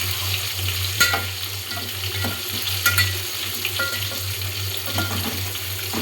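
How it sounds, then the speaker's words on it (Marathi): Brinjal pieces being gently stirred in frying oil, a steady sizzle under a low hum, with soft occasional spoon knocks against the pan, no voices. "टाकल्यावर वांगे असं एकदम हळूवारपणे हलवायचं आहे."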